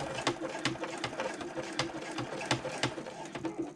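A sewing machine stitches over the corner of a fabric liner, producing a quick, regular needle clatter of rapid repeated ticks that stays close and moderately loud throughout.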